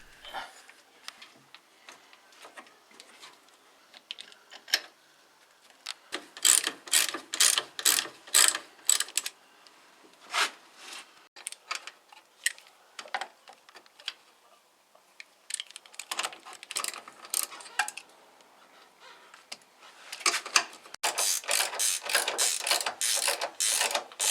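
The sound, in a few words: tightening bolts on Porsche 944 S2 steering gear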